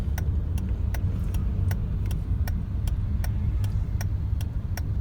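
A Honda City ZX petrol car moves slowly in second gear at walking pace with a steady low engine rumble, while a light, regular ticking repeats about every half second throughout.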